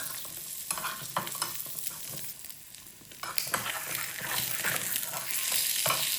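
Eggs seasoned with salt and pepper powder fry in a pan for a double egg fry. A close, steady sizzle comes with intermittent utensil scrapes and taps, growing louder toward the end.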